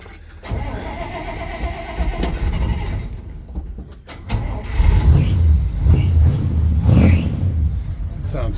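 An old Dodge truck cranks and fires up, its engine catching and settling into a loud, rough, rumbling run close by, with a brief dip in the middle before it roars back strongly.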